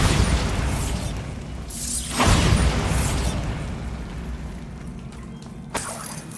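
A Bombarda spell blast in the Hogwarts Legacy video game bursts loudly about two seconds in, a broad crashing boom that rings out over steady game ambience, followed by a smaller pop near the end.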